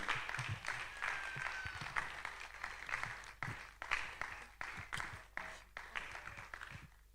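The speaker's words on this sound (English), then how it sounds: "Please keep clapping till she gets here." Conference audience applauds to welcome a speaker to the stage, a sustained, fairly faint wash of many clapping hands with scattered sharper claps, continuing without speech until it thins toward the end.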